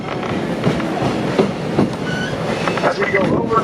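Diesel excursion train on the Oil Creek and Titusville Railroad rolling over a trestle, with steady rumbling wheels and periodic clickety-clack from the rails, heard from onboard, with faint wheel squeals near the end.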